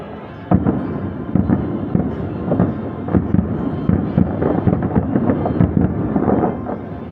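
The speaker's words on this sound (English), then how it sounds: "The great thing about being in a theme park view room is we can watch the fireworks from the" Fireworks at Tokyo Disneyland boom and crackle in a continuous barrage of muffled, thudding bursts, heard from indoors behind a window.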